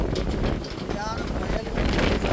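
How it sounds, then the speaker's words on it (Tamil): Strong cyclone wind blasting across a microphone in a storm, a dense, continuous roar with gusty buffeting and no pauses, up close and loud throughout. "அடிக்கிற காற்றை பாருங்க"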